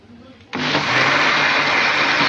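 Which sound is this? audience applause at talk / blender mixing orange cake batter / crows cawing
blender mixing orange cake batter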